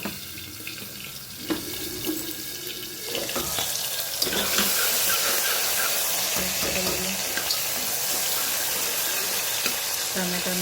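Cumin and asafoetida tossed into hot oil: a quiet hiss early on swells about three seconds in into a loud, dense, continuous sizzle that carries on steadily, with a few faint clinks.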